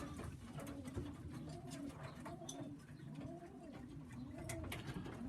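Young Sheffield pigeons coo in repeated rising-and-falling phrases, a small group close by in a loft on a rainy day, under a steady background hiss; a single spoken word at the start.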